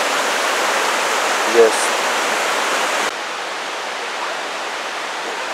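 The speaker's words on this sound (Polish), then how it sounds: "idziemy na wodospad Szklarki" Steady broadband rush of falling water at Szklarki Waterfall in Poland, constant and moderately loud, with a brief spoken word partway through.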